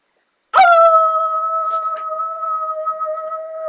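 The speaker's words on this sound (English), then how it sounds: "Dog yelped and howled and he hid in his basket." A cartoon dog's yelp and howl as a story sound effect: a sharp onset followed by a single sustained, loud, tonal howl held for about three seconds, alone with no talking.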